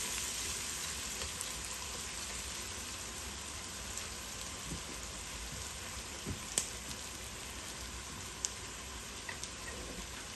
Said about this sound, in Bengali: আমি এখানে একটা পেঁয়াজ দিলাইলাম, দিয়া নাড়াচাড়া করে দিলাইলাম